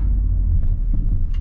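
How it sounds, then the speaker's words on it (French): Peugeot 2008 1.2 PureTech three-cylinder 82 hp engine accelerating, a loud, close, low rumbling drone heard from inside the car, steady throughout with no talk. "le bruit moteur à l'accélération, on l'entend, c'est un 3 cylindres, 82 chevaux"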